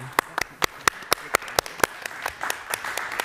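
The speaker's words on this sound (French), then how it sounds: "on peut l'applaudir" A talk-show audience clapping in applause, sparse and distinct claps at first then thickening into a steady patter, with a voice speaking briefly over it.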